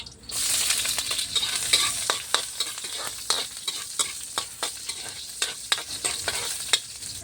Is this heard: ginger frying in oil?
yes